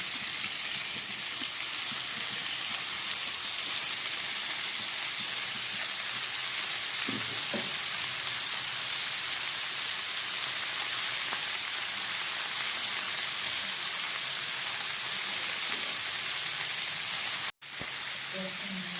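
Chopped cabbage for khichuri sizzles and fries in a hot pan, a loud, continuous close crackle with a few soft stirring knocks.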